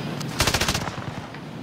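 Gunfire in Call of Duty Modern Warfare: a quick automatic burst of about eight rapid shots, fairly close and sharp, followed by quieter scattered pops and no talk.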